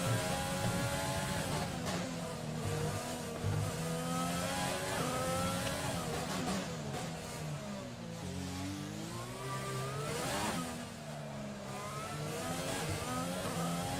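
An F1 car in the F1 2020 game howls around Monaco, its engine revving up and down through gear changes in a continuous moderate-volume stream with no voices over it.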